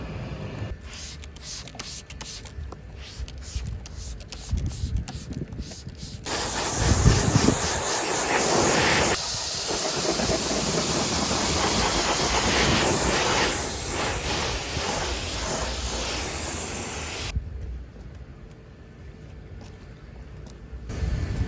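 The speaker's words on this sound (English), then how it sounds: "spray it with the bilberry first, let it soak in, and give it a spray" Wheel cleaner is sprayed in long hissing bursts onto a Ferrari 296 wheel, with shorter trigger sprays at the start and a loud sustained spray through the middle before fading back to quieter bursts.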